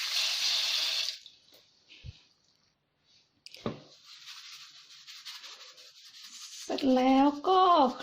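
Vegetable greens washed by hand under running water, squeezed to wring out their slime: splashing tap flow and rubbing in a sink, with pauses and handling noises, then a short voice near the end.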